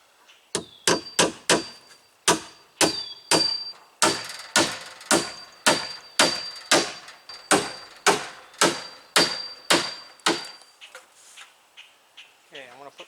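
A hammer tacks rafters into a wall stud in a run of about twenty loud, evenly paced strikes, each with a ringing metallic tail, then stops. Near the end a faint sound follows.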